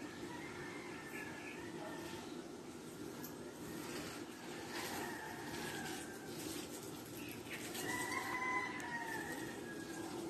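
Chickens cluck and a rooster crows faintly at a distance over a steady background hum, with no nearby talking.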